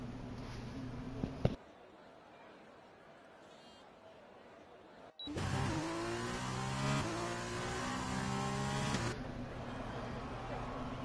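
Formula 2 race car in an esports racing game on Spa, the engine rising in harmonic sweeps as it accelerates through gears, loud and steady for several seconds after a quieter start.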